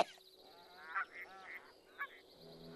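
Geese honk near a river, with a few faint, brief honks spaced about a second apart over a quiet background.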